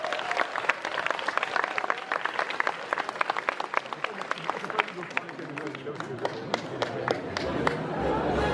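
Audience clapping for a cosplayer at a cosplay contest, sustained applause with crisp individual claps that thin into scattered sharp hits toward the end, heard at a moderate distance.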